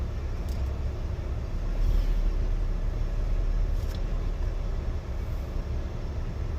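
Steady low road rumble from a car cruising on a hot day with the air conditioning running, continuous broadband cabin noise at even loudness throughout, with no talking.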